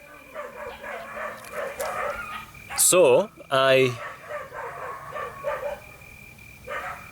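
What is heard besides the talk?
rescue dogs barking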